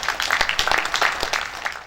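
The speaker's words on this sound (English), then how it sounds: "A round of applause for him, please" An audience at a quantity surveyors' annual assembly applauds a speaker being called up, a brief dense burst of many hands clapping at steady volume.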